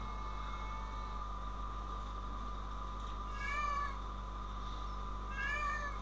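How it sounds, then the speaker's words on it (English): A kitten meows twice, short rising calls a few seconds apart, heard over a constant low background hum with no one talking. "A kitten."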